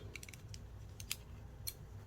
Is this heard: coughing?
no